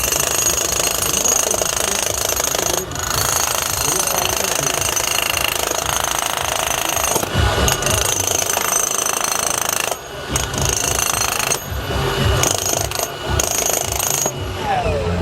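A power breaker hammer pounds concrete in a fast continuous rattle, loud and close, with brief pauses between bursts of breaking.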